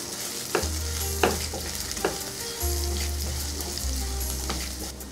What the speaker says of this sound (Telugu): ఉల్లిపాయలు 1 నిమిషం వేగిన తర్వాత 2 పచ్చిమిర్చిని ముక్కలు చేసుకొని వేసుకోవాలి.